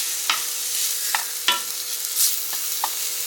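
Sausage browns in a pan for pancake-mix McGriddle-style bites, giving a steady broadband sizzle broken by several sharp clicks of a spatula stirring and scraping, close and fairly loud with no talking.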